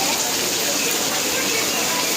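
Heavy rain pouring down over a roadside Ganesh patri market, a dense, steady hiss of downpour with no breaks, close and fairly loud throughout.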